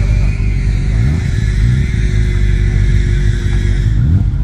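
BMW competing at the Hoghton Towers sprint pulling away, a loud steady engine rumble close by with rising revs, no voices heard.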